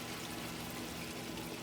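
Water pours steadily into a cooking pot of stewing turkey necks, a continuous gushing, filling sound close by and fairly soft, with no talking.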